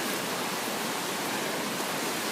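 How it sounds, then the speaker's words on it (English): Water rushing over a man-made fall at Scotts Mills Park, Oregon, a steady, dense, broadband roar heard up close with no voices. "It's not so much a waterfall as just really rushing water."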